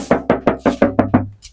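Knuckles rap on the fender wall panel of a Toyota Innova Zenix Hybrid, seven quick hollow knocks in a fast even run, close and loud, followed by a faint short sound.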